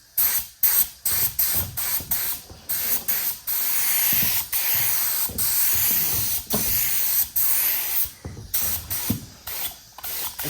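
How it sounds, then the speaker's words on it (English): Satin black spray paint goes on in a light dust coat as a run of short hissing bursts from a can, some brief and some held for a couple of seconds, close and fairly loud. "I always go the first coat, kind of a dust coat. You want to go kind of light."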